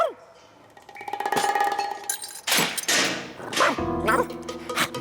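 A cartoon dog barks in a short animated scene, a few loud sharp barks among whistling and other cartoon sound effects, with a voice speaking.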